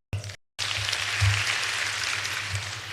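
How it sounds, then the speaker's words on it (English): An audience at a Kenyatta University public lecture breaks into sustained applause, a dense, even wash of clapping from a large crowd that follows a brief initial burst and carries on steadily. "Could you please clap for them as well?"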